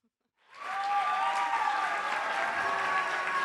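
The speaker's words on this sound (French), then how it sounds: "Bravo, on peut les applaudir," Audience applause at a youth talent show evening bursts in after a brief silence and holds as a loud, dense, steady wash of many hands, with faint tonal music threads running beneath it.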